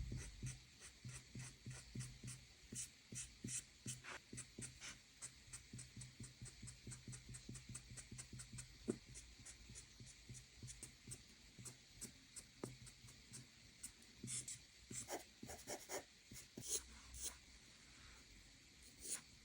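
A very finely sharpened pencil sketching braided hair on paper, rapid rhythmic scratchy strokes in quick bursts, close and quiet, continuing steadily throughout with brief pauses between runs of strokes.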